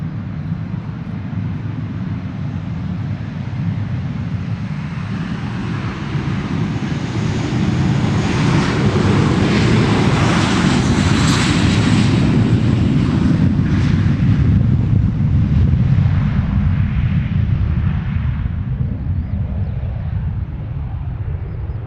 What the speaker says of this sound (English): Beautifully noisy departure.